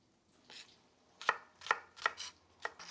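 A knife chops shallots on a cutting board: a slight lead-in, then five crisp, close chops at an uneven rhythm, clear and alone with no talk.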